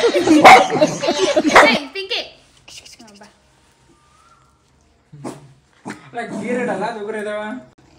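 Two freshly bathed dogs, one large and one small, bark in loud close bursts at the start, then sporadic yips follow amid quieter gaps, with people talking nearby.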